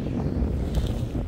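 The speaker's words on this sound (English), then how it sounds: "It's just windy." Storm winds gust across an open smallholding, a steady close rumbling buffet of air with brief swells and no talking.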